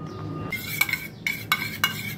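A spoon stirring half a spoonful of flour into about two spoonfuls of milk, making light clinks and scrapes against a small bowl in several short bursts, close up with no talking.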